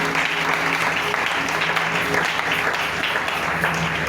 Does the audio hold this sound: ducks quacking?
no